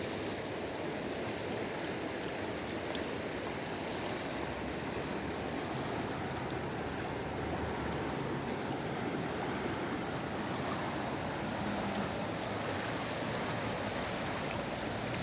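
Running water flows steadily nearby, a continuous broadband rush with no pauses and no voices.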